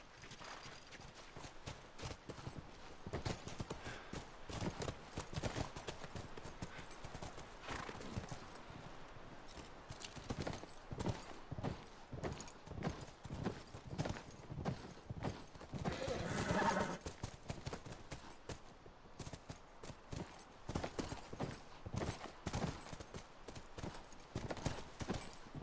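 Horses plod along with a steady clip-clop of hooves in the video game The Last of Us, and one neighs loudly now and then over the walking rhythm.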